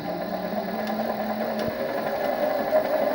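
A belt-drive lathe running without its chuck fitted, its turning gears giving a steady, fairly quiet mechanical whir and hum throughout, with a couple of faint ticks.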